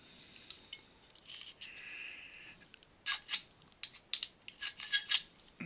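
Sheet metal edge deburred with a knockoff two-wheel hardened deburring tool: a faint scraping pass, then a run of sharp metallic clicks and scrapes close up, no talk.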